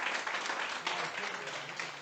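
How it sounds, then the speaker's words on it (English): Brief round of applause from a brewery audience at the Heights Brewery in Farmington, a dense, soft wash of clapping lasting only a couple of seconds. "Deserves a round of applause."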